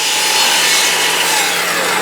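A hand saw cuts steadily through the end of a glued wooden clamp rack, a continuous close rasping stroke sound with no pauses or talk.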